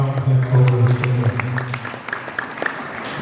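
A church congregation at a Sunday worship service in Pointe-Noire bursts into applause and cheering, a sustained low hum of voices giving way to scattered, fading claps.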